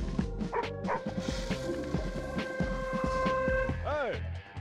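Cartoon dog barking in the Madagascar: Escape 2 Africa video game, a few yips and bow-wows over game music and effects, with a voice talking alongside.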